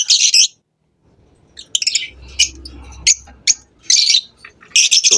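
A pet bird in an aviary chirps and squawks close by in bursts of sharp, bright calls separated by short pauses, with faint low rustling beneath.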